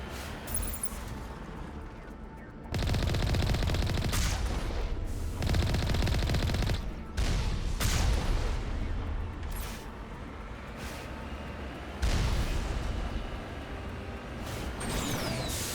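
Sustained automatic gunfire from defensive turrets in the video game Mass Effect, loud and close, coming in long rattling bursts with brief lulls between them.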